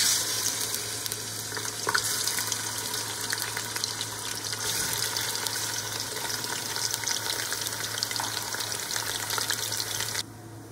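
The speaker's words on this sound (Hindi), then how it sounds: "तो इसको ब्राउन होने तक मैं फ्राई करूंगी।" Mutton fries in a pot for nihari, a loud, even sizzle with occasional crackles that runs unbroken and drops slightly in level just before the end, close up with no speech.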